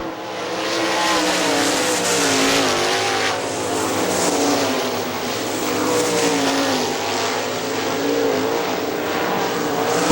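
Sprint cars race on the dirt oval at Hartford Speedway Park, engines roaring continuously at close range with rising and falling pitch as the pack passes, with no voices over them.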